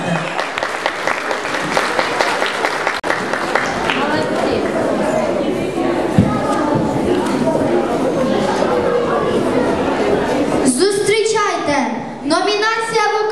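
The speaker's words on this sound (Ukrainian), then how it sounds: "Наші оплески на вашу честь, дівчата!" Audience applause for a group of girls after their turn at a Ukrainian school talent show, steady clapping filling most of the stretch before a voice starts announcing the next act.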